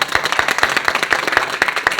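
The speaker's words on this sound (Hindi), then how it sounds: "तालियां बजाइए भाई गड़गड़ा करके।" A crowd claps loudly at a network-marketing event, a mix of dense applause and strong rhythmic claps recurring roughly every quarter second, close and energetic.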